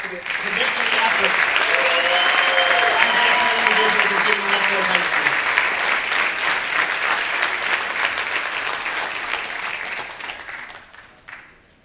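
Dense, loud applause from an audience at a high school athletic awards ceremony for basketball award recipients, sustained for about ten seconds before fading, with cheering voices rising through it.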